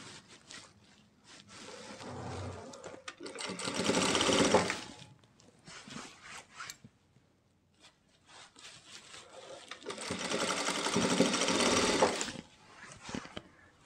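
A sewing machine stitches a palazzo in two sustained whirring bursts, each a few seconds long, separated by quieter handling and fabric rustle.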